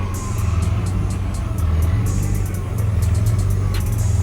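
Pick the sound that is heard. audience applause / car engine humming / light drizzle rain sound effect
car engine humming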